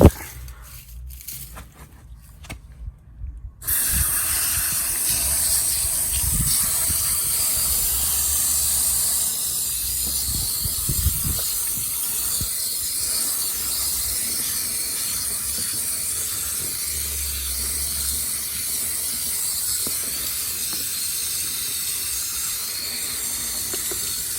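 A steady water spray hisses against a car headlight coated in toothpaste, starting after a few seconds of quieter handling noise and continuing as a constant broad rushing wash up close.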